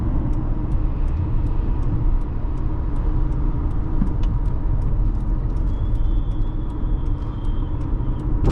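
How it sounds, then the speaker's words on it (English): A 2008 Acura RL 3.5 sedan rolls over a big bump on a warm-day test drive, heard from inside as a steady, loud road and engine rumble with faint, brief knocks. "That was a very big bump, and it ate it really well."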